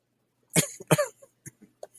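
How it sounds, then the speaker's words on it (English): Two sharp coughs close up, followed by a few small throat sounds and quiet breaths. "made me cough there"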